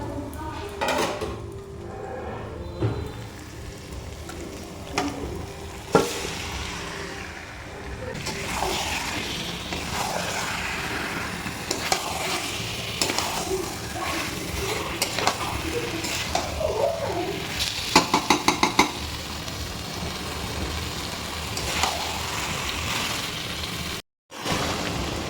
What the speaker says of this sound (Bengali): চলো এবার মশলার মধ্যে মাংসটা দিয়ে দিই।